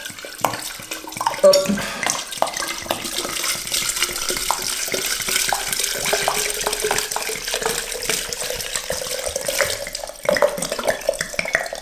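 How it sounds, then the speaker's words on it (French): Tap water runs steadily into a jar for fruit kefir for about twelve seconds, a continuous close pour with a slowly rising tone as the jar fills, and a single brief spoken word early on. "je vais ensuite après mettre mon eau"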